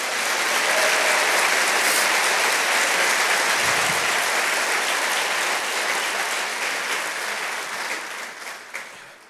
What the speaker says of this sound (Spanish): ¿Le puede dar un aplauso fuerte al Señor?